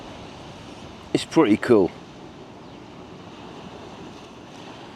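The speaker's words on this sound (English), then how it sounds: "Oh, the crashing of the waves." Ocean surf washes steadily onto the shore where the Hue River meets the sea on Vietnam's coast, a constant rushing hiss with wind. Someone speaks briefly over it.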